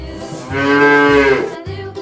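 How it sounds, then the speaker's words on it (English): A bull lets out a single deep, drawn-out moo, loud and close, that swells and then fades over about a second with no other sounds. "Bull."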